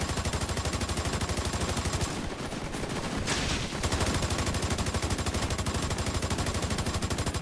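Sustained rapid automatic gunfire in The Division, a dense steady stream of shots that continues almost unbroken, dipping briefly into a rushing burst before the rattling fire resumes at full strength.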